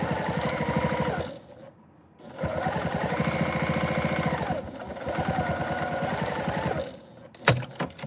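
A sewing machine tacks a tote bag gusset in three rapid mechanical bursts separated by short pauses, close and steady, followed by a brief clack at the end.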